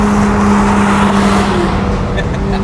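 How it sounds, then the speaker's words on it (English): A Toyota Supra driving, a steady loud engine drone with a sustained low hum and road noise, close by, with people talking over it. "Supra does look good though, driving"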